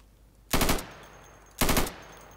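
Gunfire in the video game Insurgency: two loud, sharp bursts about a second apart, each a short rattle that drops off into a brief decaying tail over a quiet background.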